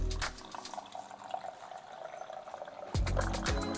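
Bewinch G3 water purifier dispensing drinking water: a steady close stream pouring into a cup, with a sudden louder gush and splash near the end as the flow changes.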